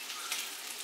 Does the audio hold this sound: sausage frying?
yes